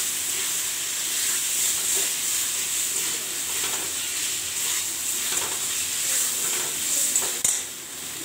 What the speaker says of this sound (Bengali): আদা বাটা একটু নাড়াচাড়া করে দেবো জিরে গুঁড়ো